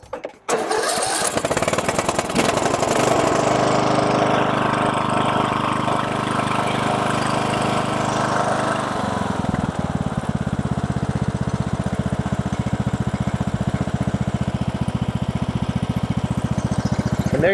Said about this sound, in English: it's idling like a kitten.